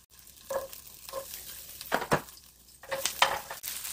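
Garlic dropped into a spoonful or two of heated cooking oil sizzles in short bursts, with scraping stirs and a few louder crackling spikes, close by and with no talk.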